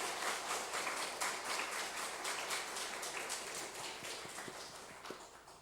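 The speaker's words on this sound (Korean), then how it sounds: "박수 좀 힘차게 좀 보내주세요" A church congregation applauds during an Easter Sunday service, steady, fairly faint clapping from a crowd that fades slightly toward the end, with almost no voices.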